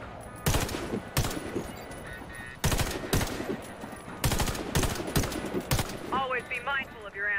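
Rifle fire at a target in a Warface video game tutorial: several loud, close bursts of automatic shots separated by short pauses, with a brief voice toward the end.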